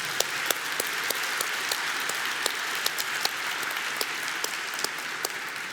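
An audience at a tech conference talk on Compose Multiplatform claps for several seconds, an even wash of applause with distinct sharp claps popping out here and there.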